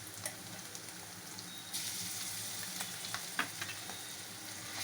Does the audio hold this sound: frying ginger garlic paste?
yes